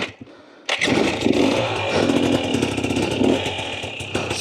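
Husqvarna TE250 dirt bike with an FMF Turbine Core 2.1 exhaust lugging along in first gear on a trail, a loud, close, steady low engine chug with clattering mechanical texture that starts abruptly after a brief quiet moment.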